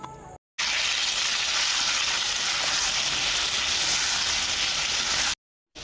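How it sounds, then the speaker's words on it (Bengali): Potatoes fry in oil until browned for a mutton curry, making a loud, close, continuous sizzling hiss. It starts abruptly after a short gap and cuts off just before the end. "এখানে তেল দিয়ে দিয়েছি আলুগুলো ভেজে নেবো লাল লাল করে"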